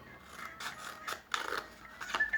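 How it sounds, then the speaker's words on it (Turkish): Scissors snip through a cup, cutting it into thin strips for a children's craft, with repeated short close crunching cuts in an uneven rhythm. "buralardan yukarı doğru tek tek ince ince şeritler halinde bardağımızın hepsini kesiyoruz"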